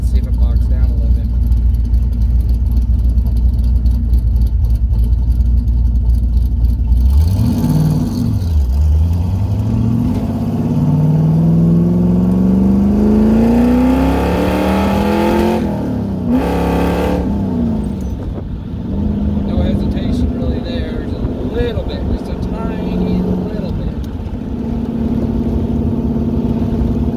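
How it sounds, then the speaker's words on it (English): A car with a freshly replaced vacuum advance canister accelerates on a test drive, the engine note climbing and shifting through gears at close range, loud and continuous with talking over it. "we're going to take it for a test drive and see if it bogs down a little bit."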